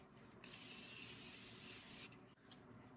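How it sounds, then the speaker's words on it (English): A makeup setting spray misted onto a face: a single sustained hiss of about a second and a half, close and fairly quiet, followed by a short faint puff, with no talk. "one last spritz"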